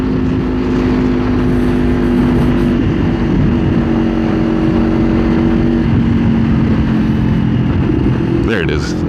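Kawasaki Ninja 500 motorcycle riding along with a steady near engine drone and wind noise, the tone dipping midway as the throttle eases, followed near the end by a short crackle like an exhaust pop.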